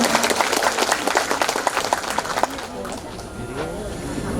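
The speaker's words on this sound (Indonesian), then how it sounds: "Tepuk tangan untuk Bunda kita tercinta." An audience at a building inauguration ceremony applauds with dense, steady clapping for a couple of seconds, then fades into softer crowd noise and murmured voices.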